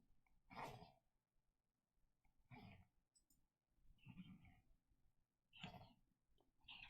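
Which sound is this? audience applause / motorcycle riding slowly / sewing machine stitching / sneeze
sneeze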